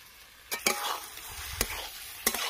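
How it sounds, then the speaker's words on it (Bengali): Washed chicken pieces go into a sizzling, fried spice masala, giving a steady frying hiss broken by three sharp spoon-and-pan clatters as the meat is stirred in. "এবার ধুয়ে রাখা মাংস দিয়ে দেবো।"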